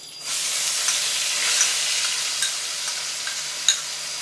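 Chopped onions frying with cumin in hot oil, giving a loud, even sizzle and hiss that starts abruptly and holds steady, with a few faint clicks and scrapes from stirring.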